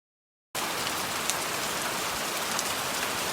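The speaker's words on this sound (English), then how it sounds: "as you can see, it's pouring rain" Heavy rain pours down in a steady, dense hiss over a harbor during a gale, starting abruptly after a brief silence and holding constant and loud throughout.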